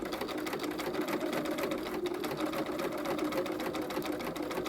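Sewing machine stitching a gown along a curved seam, running steadily and fairly close for the whole stretch with no pauses and no talk.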